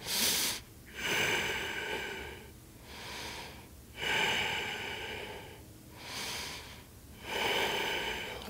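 Slow, deep yoga breaths fill a quiet room, each long audible inhale and exhale coming close to the microphone in an even cycle, about four full breaths in all.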